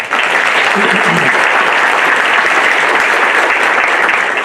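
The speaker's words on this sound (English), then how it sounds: "So another round of applause for them." An audience gives another round of applause to a group, loud and close, dense steady clapping with a brief voice near the start.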